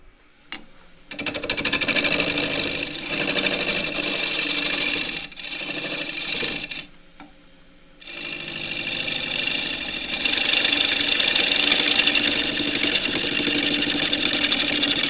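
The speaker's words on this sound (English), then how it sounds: "So a more deliberate cut in from the rim, just to see how cleanly I can cut it." Spalted wood spins on a wood lathe, giving a loud steady hum that drops out twice before resuming, with a rising scraping hiss as the tool cuts in from the rim.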